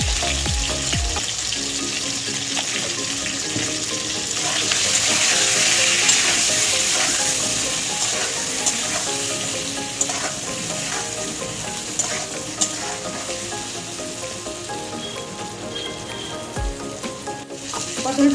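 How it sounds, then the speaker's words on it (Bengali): Pointed gourd pieces frying in oil in a kadai with salt and turmeric, a loud continuous sizzle filling the whole stretch, with occasional spatula scrapes and clinks on top. "আর একটু হলুদ দেবো, দিয়ে ভালো করে ভেজে নেব।"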